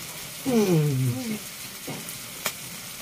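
Chili chicken frying in a pan, a close hiss and sizzle with a stirring scrape, over which a short voiced sound rises and falls.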